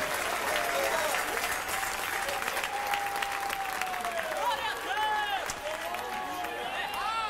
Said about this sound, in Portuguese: Aplausos para o Rei da Glória.